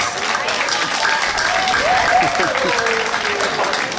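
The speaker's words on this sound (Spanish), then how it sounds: "Vamos a darles un fuerte aplauso a todos ellos." Crowd applause at the opening of Viva Maria 1910 restaurant in Melaque, Jalisco, a steady loud wash of clapping with a voice speaking over it throughout.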